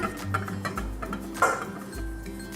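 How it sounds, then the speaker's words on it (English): Plastic toy cauliflower cut with a toy knife and a piece dropped into a toy pot, giving light clicks and clinks with a sharper knock in the middle, close and fairly quiet. "let's cut it into 2 pieces and use 1 in our pot"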